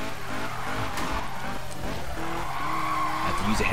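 Handbrake drift of a 1996 or 2015 Mazda MX-5 in a racing game: loud sustained tire skidding over constant engine noise, with pitch rising near the end.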